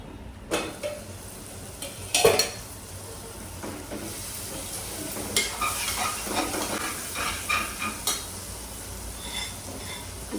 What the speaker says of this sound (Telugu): క్యాలీఫ్లవర్ కూడా వేసేస్తున్నానండి దీంట్లో